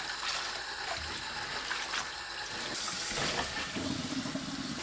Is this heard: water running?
yes